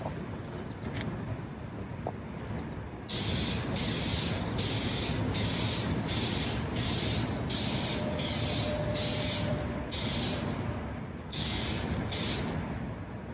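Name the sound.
spray gun spraying paint onto a test panel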